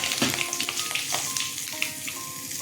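Black cumin seeds, with green chillies just tempered alongside, crackle and sizzle in hot oil as a fish curry base starts; a steady close frying hiss with small pops and a light stir, no talk.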